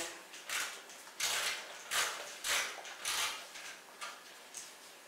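Repeated short metallic clicks and scraping as screws are fitted and snugged into PC case panels, a series of brief bursts spaced roughly half a second apart, close and fairly quiet.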